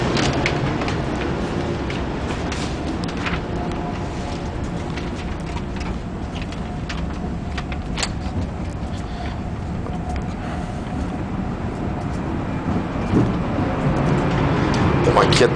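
Steady broadband rumble and hiss inside an AVE high-speed train cabin running at 300 km/h between Madrid and Barcelona, constant and loud throughout with faint clicks and no talk.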